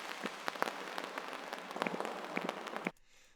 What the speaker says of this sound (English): I've got some rain sounds here